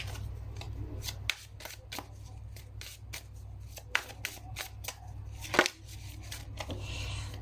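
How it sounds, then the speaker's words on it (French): Tarot cards shuffled and dealt out, with a series of crisp flicks and slaps over a low steady hum, fairly quiet and close. "je positionne les cartes et je vous explique"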